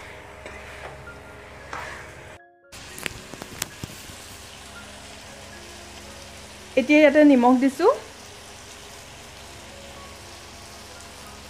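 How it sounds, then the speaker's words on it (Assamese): Chicken frying in a pan over a gas flame, a steady low sizzle running throughout, broken by a few sharp clattering knocks and a short louder burst of spattering near the end, with a voice speaking briefly. "ফ্লেমত অকণমান সময় ভাজি ল'ম মাংসখিনি"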